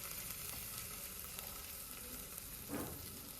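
Green chillies roasting in a pan give off a quiet, continuous sizzle and crackle, with one brief stir or scrape near the end.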